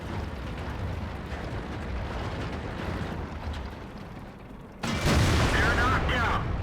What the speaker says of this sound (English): There's artillery.